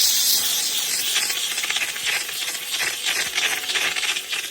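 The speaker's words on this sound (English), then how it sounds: "So now I'm going to take my trusty steamer. Just go ahead and steam the bottoms." A handheld steamer blasts the soles of Air Jordan 4 Rare Air sneakers, a loud continuous hiss with pulsing surges and faint rattling, close by and without talk.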